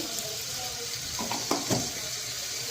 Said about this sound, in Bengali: ভাবলাম একটু আলু আর বাঁধাকপি একটু ভাজা নিই